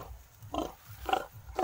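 A pregnant goat on a rural provincial farm gives three short, nasal bleats at a steady, evenly spaced rhythm, close and fairly clear with no talking.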